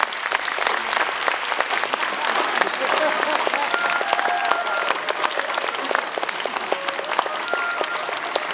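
Sustained applause from a hall audience at a folk performing arts festival, a 2019 local traditional performing arts event in Yahaba featuring lion dance groups, steady dense clapping throughout with no talking.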